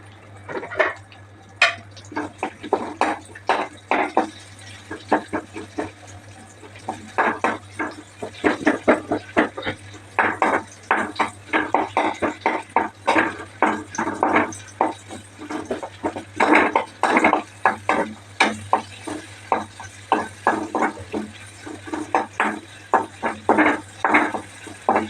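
Chopped onions go into a pan and are stirred while cooking for a clam fry. Dense, irregular scraping and clattering from a utensil against the pan continues close-up over a steady low hum.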